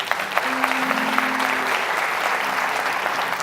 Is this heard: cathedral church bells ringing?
no